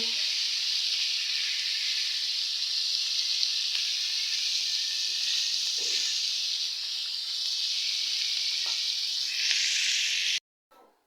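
Jatka fish, small young hilsa, frying in hot oil with a steady, loud sizzle and hiss that runs unbroken and close, with a faint knock partway through before cutting off abruptly at the end.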